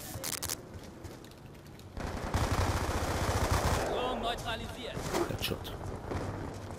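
Rapid automatic weapon fire in Call of Duty: Black Ops 2 multiplayer, a dense sustained burst that breaks off into scattered thuds and clatter, with someone talking over parts of it.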